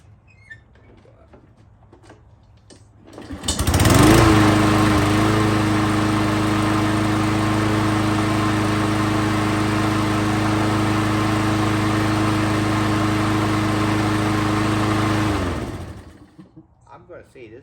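A Troy-Bilt XP lawn mower's small engine starts up and runs at a steady, loud drone for about twelve seconds, then cuts off.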